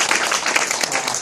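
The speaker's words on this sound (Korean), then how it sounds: "박수 한번 보내주시죠" Audience applause at a corporate job fair talk in Korea, a dense steady patter of many hands clapping that fills the whole short moment with no voices on top.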